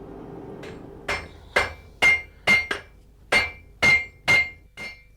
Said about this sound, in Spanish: trata de rebajar a golpe de martillo el grueso de la chapa donde deberá encajar la púa